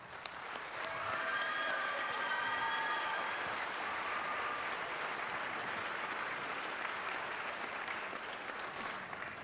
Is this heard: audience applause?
yes